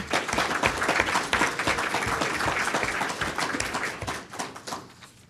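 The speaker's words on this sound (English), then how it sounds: "Could we have a round of applause for Shauna?" Applause at a school board meeting for a fourth grade teacher, a dense room of clapping hands that stays steady and moderately loud before thinning out at the end.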